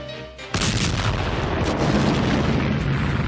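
Bofors artillery gun fires in the mountainous Ladakh region with a sudden loud boom, followed by a sustained heavy rumble and roar that fills the rest of the moment, with no speech.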